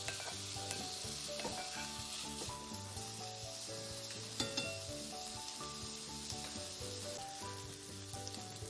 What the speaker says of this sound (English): the bacon, and it's going into the cast iron pan